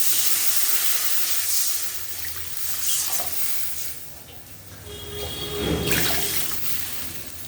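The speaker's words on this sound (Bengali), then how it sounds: "এবার এর মধ্যে জল দিয়ে দেবো সেদ্ধ হওয়ার জন্য।" Water pours into a pan of beets seasoned with salt and turmeric, set to boil, producing a close, steady rushing splash that swells and eases over several seconds.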